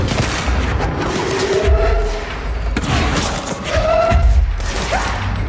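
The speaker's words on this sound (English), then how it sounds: "Who's shooting at me?" Gunfire in the action video game Control at the NSC Power Plant, loud bursts and heavy low thuds recurring over several seconds amid a dense, noisy game soundscape.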